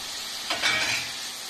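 Chicken pieces fry with garlic and onion in a hot pan as they are stirred, a bright steady sizzle with a brief scraping stir burst in the middle, close and alone.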